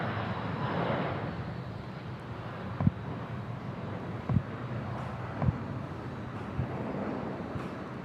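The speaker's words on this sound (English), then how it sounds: "let's enjoy this Starlux departure" A Starlux airliner departing Bangkok Suvarnabhumi Airport gives a distant, broad jet roar. The roar is steady under wind noise, with a few faint thumps.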